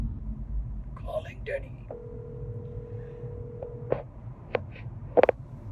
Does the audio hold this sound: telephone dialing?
yes